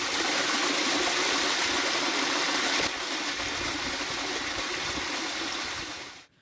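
A water spring near Mohan Gate in Ranikot fort rushes and splashes in a steady, loud, close wash of flowing water that fades out at the very end.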